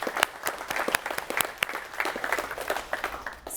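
A seminar audience claps, an uneven burst of sharp individual hand claps from a modest crowd, fairly close and trailing off toward the end.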